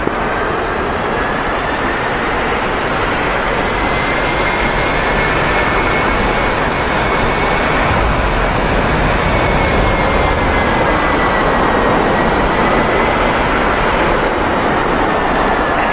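Sustained, loud jet afterburner roar from a fighter in the DCS World flight simulator, a steady broadband rush with a faint whining tone riding on top, continuous and unbroken with no voices.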